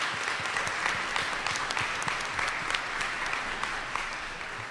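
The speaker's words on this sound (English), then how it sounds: "I want everybody to give the Winston-Salem Police Department and the Forsyth County Sheriff's Office a round of applause." A round of applause at a community update meeting on gun violence strategies. The clapping is steady and fairly full throughout, with no speech over it.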